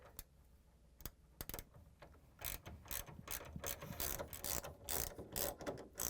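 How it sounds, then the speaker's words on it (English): A 3/8-inch socket wrench ratchets out screws on a Whirlpool, KitchenAid or Maytag refrigerator cabinet, giving close, quiet clicking in short bursts that grows into steadier, faster runs of ticks. "They are 3/8 of an inch, so I'm using a socket wrench."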